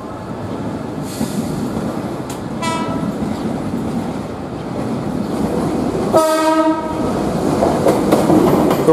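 An Argo Bromo Anggrek express hauled by a CC 206 locomotive sounds its horn twice, first a brief toot and then a longer blast, over a constant heavy rumble of rolling stock nearby.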